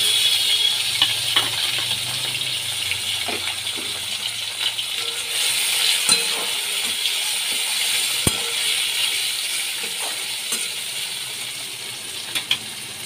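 Chopped tomato with onion fries in a pan with a steady, bright sizzling hiss, while occasional sharp clicks and scrapes from the stirring utensil sound up close.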